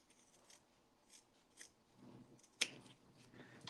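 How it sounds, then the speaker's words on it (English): Scissors snip along the curve of a fabric waist pack, faint and close, with one sharp distinct cut standing out from soft rustling handling noise. "so I'm going to trim just that curve"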